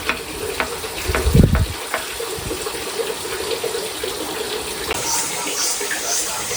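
Oil heating and frying in a pan while fish curry is being made, a steady close sizzle with a clunk of stirring early on and faint clinks later.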